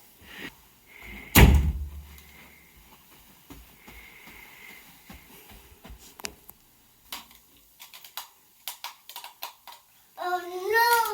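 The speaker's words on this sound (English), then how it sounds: "You're gonna shut the door?" A door in a home toy room is pushed shut with a single loud, close thud early on, followed by softer handling knocks and ticks, and a voice rises near the end.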